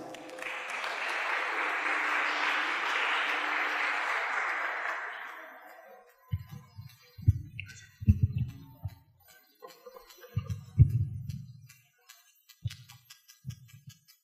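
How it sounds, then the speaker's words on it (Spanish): A church congregation gives welcoming applause for a guest speaker at a worship service, a dense burst of clapping that tapers off after about six seconds, followed by soft scattered thumps and handling noises. "Así que lo recibimos con un aplauso de bendición."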